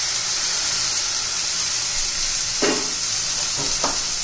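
Cut green beans fry in hot oil with a steady, loud sizzle, and spices go into the pan. A spatula scrapes and stirs the pan a few times near the end.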